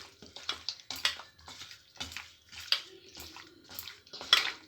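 Salted raw chicken for Mughlai chicken is kneaded and mixed by hand in a bowl, giving close, wet squelching and slapping in an irregular rhythm.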